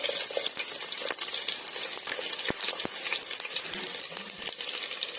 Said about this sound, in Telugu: చూడండి, ఆనియన్స్ కూడా ఆల్మోస్ట్ ఫ్రై అయిపోయాయి కదండి.